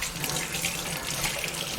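Water runs steadily from a kitchen sink faucet, a constant close hiss and splash with no talking, at a home where a tankless water heater is being installed.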